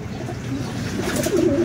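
Pigeons coo softly near a loft in overcast weather, with a few low calls against faint rustling background, fairly quiet and close.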